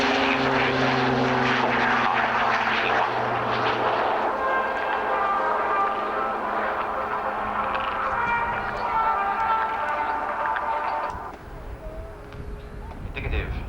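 A propeller-driven military tactical airlift transport flies past at the 1990 RAF Abingdon airshow, its droning, humming engines loud and steady throughout, then easing slightly near the end, with a commentator talking over the public address.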